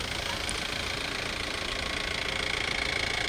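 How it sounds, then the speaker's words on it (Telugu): Police parade inspection vehicle moving forward at a district ceremony, its engine a steady, even drone with a faint knocking texture, heard at moderate distance and without pauses. "పరేడ్ పరిశీలన వాహనం ముందుకు సాగుతూ ఉన్నది"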